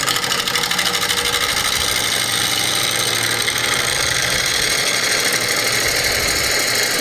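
A heavy bowl gouge cuts into a winged burl spinning on a wood lathe, a continuous loud, rough scraping drone with steady rumbling vibration throughout, no voices.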